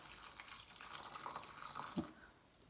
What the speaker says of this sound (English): add some warm water